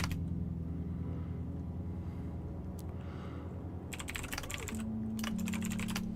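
Bursts of fast typing on a computer keyboard, close and clear, with quick rattling keystrokes in two clusters separated by brief pauses over a quiet room hum.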